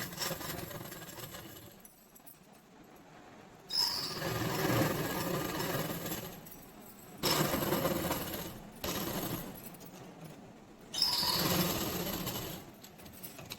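A sewing machine runs in bursts while stitching a seam along the edge of a girls' night dress, with its motor whirring loudly for a few seconds, stopping, and starting again, and no voices over it.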